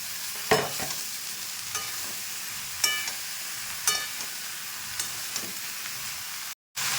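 Sponge gourd frying in a pan with a continuous close sizzle, punctuated by several sharp scrapes and knocks of a spatula stirring it, with a short silent gap near the end.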